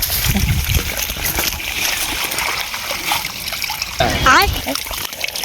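Water gushes and splashes from a tap in a steady, close wash, with people talking over it throughout and a louder burst of splashing near the end.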